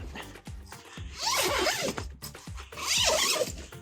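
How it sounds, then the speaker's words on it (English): Zipper on a Roofnest rooftop tent door mounted on a Ford Maverick being drawn open in a few quick rasping pulls, close and clear with no talking. "Then you're ready to unzip and go inside."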